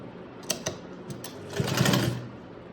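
Sewing machine stitching a heavy Patiala salwar, with two sharp clacks early on, then a steady whirring run of stitches that builds to a louder burst near the end, close and clear, with no talk.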